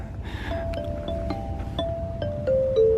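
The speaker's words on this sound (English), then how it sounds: "playing on the xylophone" A xylophone is tapped at an outdoor nature center on Long Island, a few bright single notes struck at an uneven pace over faint background noise, with the last tones ringing louder.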